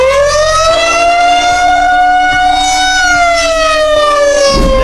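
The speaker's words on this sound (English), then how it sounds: "First is the tornado sirens in Midwest USA." Tornado warning siren in the Midwest USA, a loud steady wail with stacked harmonic tones that rise and fall gently as it rotates, sounding alone throughout.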